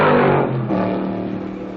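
A four-cylinder Ford Cortina and a 7-liter Ford Galaxy racing at Sebring, their engines droning and revving loudly and steadily at close range with no voices.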